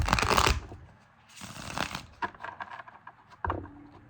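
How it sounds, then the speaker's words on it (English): Tarot cards shuffled by hand in a few bursts: a loud riffling flurry at the start, another mid-way, then softer scattered taps and slides of the deck, close up with no talking. "Shuffle one more time."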